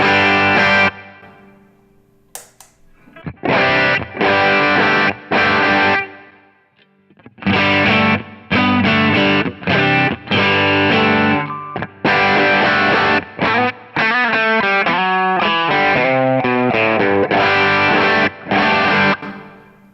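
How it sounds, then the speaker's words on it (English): Electric guitar on the bridge pickup through a Kingsley Minstrel amp with gain set at the edge of breakup, playing loud, close chords and quick riffs in bursts separated by short pauses, with no talking. "I'm going to bring the gain back down a little bit and really get like a nice edge of breakup kind of sound"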